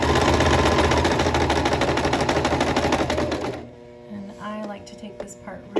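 A sewing machine runs steadily and loudly up close, stitching back and forth along a dress seam for several seconds before stopping, after which a voice speaks briefly.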